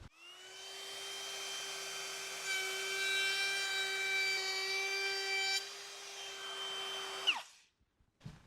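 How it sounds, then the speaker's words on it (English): Router with a roundover bit shaping the edge of wood shoe molding, a loud steady high-pitched whine with a continuous cutting hiss for about seven seconds, then winding down quickly, with no talk. "I already have a roundover bit in the router."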